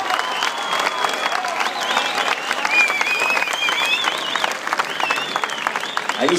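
Sustained crowd applause rolls through an outdoor piazza in Muro Leccese at a comedy performance, steady and fairly loud throughout, mixed with voices and a few cheers.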